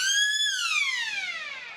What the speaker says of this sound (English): So there it is, the 3/4 time siren